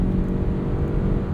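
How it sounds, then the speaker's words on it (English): The petrol engine of a 2022 Lexus NX 450h+ F Sport plug-in hybrid starts up while driving, a low steady rumbling drone mixed with road noise inside the cabin. "There we go. Engine's kicking in."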